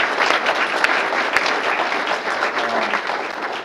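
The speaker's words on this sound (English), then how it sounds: "Let's give the county a round of applause." Warm applause from the audience at a mayor's employee recognition awards ceremony for the county, a steady dense round of clapping lasting several seconds.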